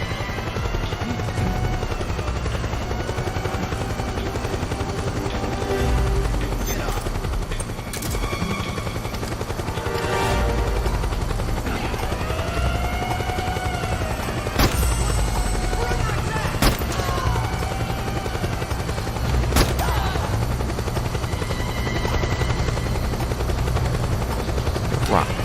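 Helicopter rotor drone and bursts of gunfire in the PlayStation 3 video game Metal Gear Solid 4: Guns of the Patriots, with a steady loud chopper hum and repeated sharp shots and volleys.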